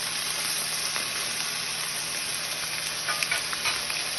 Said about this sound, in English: we're just gonna continue browning it